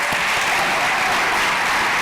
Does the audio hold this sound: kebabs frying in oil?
no